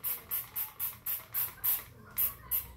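A spray bottle of cleaner mists onto dried slime putty on clothing in about nine short, evenly spaced hissing bursts, close and clear with no voices.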